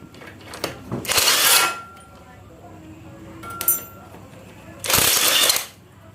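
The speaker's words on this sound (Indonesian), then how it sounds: "saya lanjut aja dulur-dulur dengan memakai impactku" An impact wrench loosening bolts and 12 mm nuts on a Byson FI motorcycle fires in two loud, close bursts of rattling hammering, separated by metallic clinks and handling noise, with someone talking in between.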